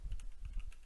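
Computer keyboard being typed on while writing C# code, a quiet run of about seven quick, soft key clicks in under a second.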